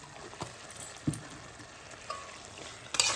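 Ghee hitting a hot pan of bottle gourd and prawns gives a soft, steady sizzle with faint stirring clinks and scrapes, close and quiet, with no talk.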